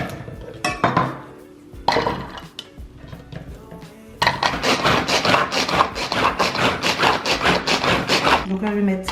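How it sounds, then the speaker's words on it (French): A knife minces an onion on a board: a few scattered knocks and a clatter at first, then a fast, steady run of close chopping taps. "Donc là je vais émincer un oignon."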